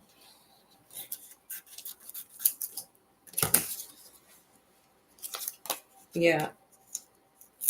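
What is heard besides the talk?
cutting with scissors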